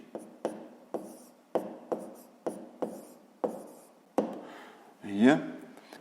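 Numbers written by hand with a pen for a fifth-grade column multiplication problem, a run of short crisp strokes close up, with a brief louder scrape near the end and no voices.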